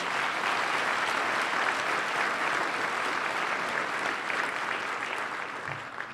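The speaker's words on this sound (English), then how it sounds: "let's give them another round of applause" A large audience at an inauguration ceremony applauds steadily in a dense, sustained wash of clapping that fills the whole stretch at a constant loud level, easing slightly near the end.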